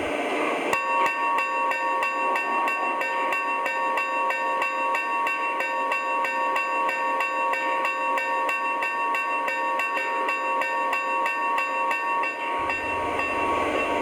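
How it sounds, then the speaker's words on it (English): Lionel Rio Grande Challenger 3800 model train bell ringing in a steady, rapid series of evenly spaced metallic dings, close and fairly loud, with no talk over it. "Here's the bell."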